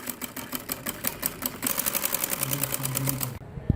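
A sewing machine stitches the hem of a salwar, a rapid even clatter of needle strokes that speeds up midway and then stops abruptly, close and without talking.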